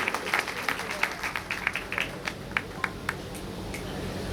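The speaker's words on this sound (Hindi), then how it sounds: "आप तालियों से स्वागत करेंगे साथियों" Scattered hand claps from a small crowd welcome engineer Satish Chaudhary at a Bahujan Samaj Party gathering, light and uneven, thinning out over a few seconds with faint voices underneath.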